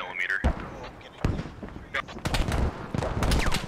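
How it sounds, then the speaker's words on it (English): Rapid bursts of heavy 30mm cannon fire thud repeatedly amid combat noise in the game Squad, with voices talking over the shooting. "There's a 30mm cannon off to the east."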